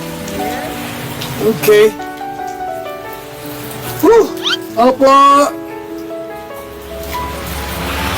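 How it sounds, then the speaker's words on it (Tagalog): Heavy rain pours without pause as a dense, steady hiss, while people talk loudly over it in short bursts. "Walang tigil po ang pagbuhos sa malakas ng ulan."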